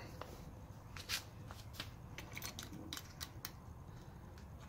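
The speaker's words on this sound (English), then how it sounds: "I'm gonna remove both screws that's on the top" Screws being removed from the roof rack clamp on a 2010-2019 Lexus GX, quiet close clicks and scrapes of a tool scattered through the clip, a few sharper ticks among them, over a soft background hum.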